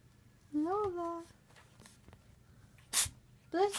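A couple of short, sharp sneezes close by near the end, following an earlier stretch of voiced, whining vocal sound.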